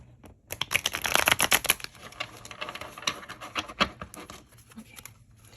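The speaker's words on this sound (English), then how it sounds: "Let me do a quick shuffle." A deck of tarot cards is shuffled up close, quick bursts of papery riffling and flapping that come in dense clusters, then thin out into lighter taps and slides.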